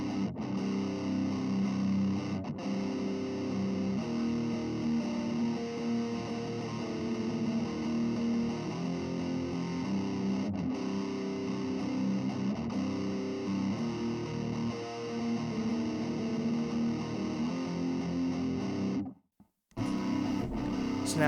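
Distorted electric guitar played through a drive pedal into a Rowin Loop Station Blue looper pedal, sounding as a sustained, dense, continuous riff throughout, with a brief dropout near the end before resuming.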